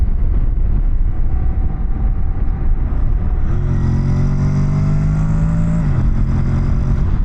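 A 2025 Honda NC750X DCT motorcycle engine idles as a low rumble, then revs up to a steady, louder drone with a rising harmonic whine before dropping back; no talking.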